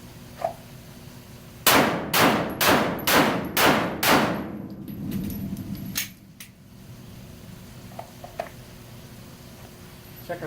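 Pistol fires a quick string of six sharp, ringing shots, evenly spaced about half a second apart, during a timed shooting drill, followed by a few faint clicks and small handling sounds.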